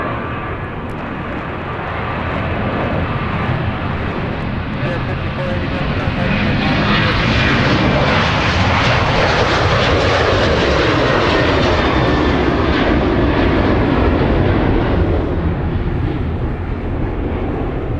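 At Minneapolis–St. Paul airport, a jet such as a CRJ coming off runway 30 right gives a loud, sustained engine roar that swells gradually, peaks, then eases slightly toward the end.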